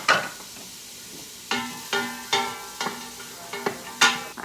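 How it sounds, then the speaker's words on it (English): Onions and celery sizzle in butter in a hot pan while a utensil stirs and scrapes in repeated strokes, roughly every half second, close and clear. "Love that nice sizzle."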